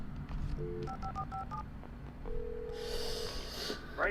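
Telephone keypad tones in the horror game Alan Wake Remastered, a quick run of dialing beeps followed by a held tone and a burst of line noise, heard alone without talk.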